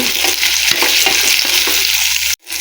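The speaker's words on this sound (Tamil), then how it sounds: "ஒரு இருபது வெங்காயம் போட்டு நல்லா வதக்கிங்க" Onions and garlic sauté in a hot pan for a vatha kuzhambu, a loud steady sizzle with spoon scrapes of stirring, cutting off abruptly near the end.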